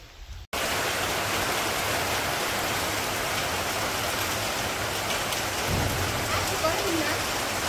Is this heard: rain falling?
yes